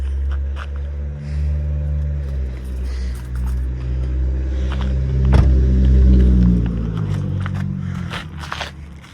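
A 2026 Dodge Charger Scat Pack Six Pack engine rumbles with a low steady idle that swells briefly in the middle, alongside scattered clicks and scrapes nearby.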